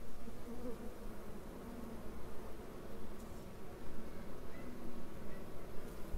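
A dense, continuous buzzing of many honeybees swarming close around their hives, rising and falling gently in intensity with no voices.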